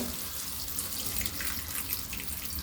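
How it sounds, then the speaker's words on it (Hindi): Water pours steadily into a pot of cooking spiced pumpkin curry, a soft continuous splashing hiss heard close and fairly quiet, with no talking. "हम थोड़ा सा पानी डाल दिए।"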